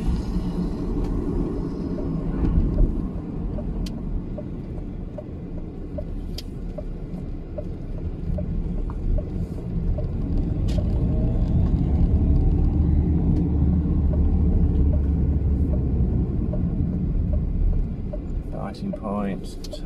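A car engine builds revs as it pulls away from a junction in first gear, a low rumbling drone that swells and then eases, heard close from inside the car with a voice talking over it.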